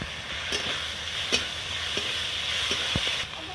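Onion with ginger garlic paste frying in a pan, a steady close sizzle punctuated by several sharp scrapes and knocks of a spoon as it is stirred.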